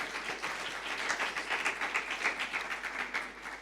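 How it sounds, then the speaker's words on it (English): An audience at a student network launch event claps for the sponsors, a sustained, fairly loud burst of applause with a rolling, even texture and no speech over it. "Can we have a round of applause for our sponsors, please?"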